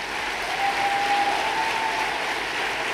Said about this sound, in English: Let's give a big applause to them.